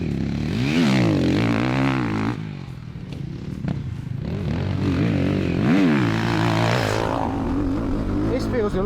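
A Beta 450 dirt bike engine revving up and down through corners, its rising and falling pitch sweeping repeatedly, close and loud, with someone talking over it.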